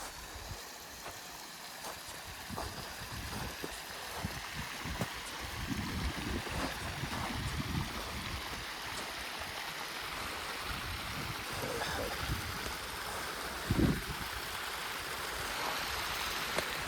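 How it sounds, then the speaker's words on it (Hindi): Soft, continuous rushing of flowing stream water in Saran Valley, Mansehra, fairly quiet and steady throughout. "ये पानी की आवाज़ सुन रहे होंगे आप।"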